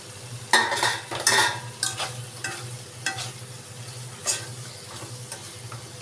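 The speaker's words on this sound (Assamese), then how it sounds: "এতিয়া মই খুব ভালদৰে লৰাই ল'ম" Paneer, capsicum and onion stirred in a frying pan for kadhai paneer: a spoon scrapes in irregular bursts over a low steady sizzle.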